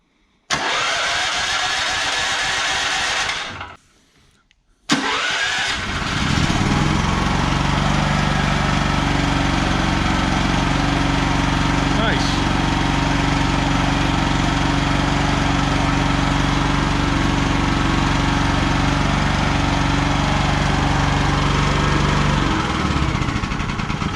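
An Estate ETQ portable generator, idle for over ten years and fitted with a new battery and solenoid, cranks briefly, pauses, then fires up and settles into a loud, steady running drone close by.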